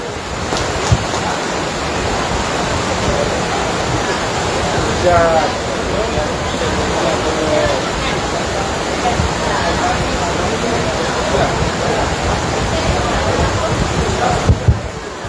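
Steady rain pours down over an outdoor political gathering, a constant broad hiss with no break, loud and close throughout.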